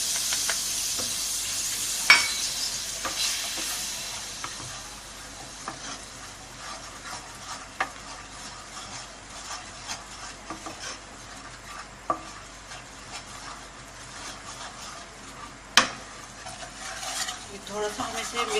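Flour being stirred into melted butter in a pan, a soft steady sizzle with occasional sharp clinks and scrapes of a utensil against the pan, moderately close and without talk.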